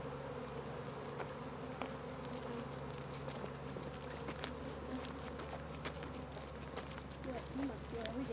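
A dense swarm of honeybees buzzes continuously at close range, a steady droning hum with faint voices and small knocks underneath.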